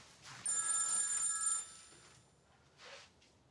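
A telephone bell rings in a quiet room, one bright trilling burst lasting about a second, then a short fainter ring follows after a pause, with no talking.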